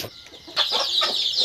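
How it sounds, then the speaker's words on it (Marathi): A desi village hen clucks close by in a poultry shed, a short run of quick, loud clucks that starts after a brief quiet moment. "ही जी आपली गावरान कोंबडी आहे"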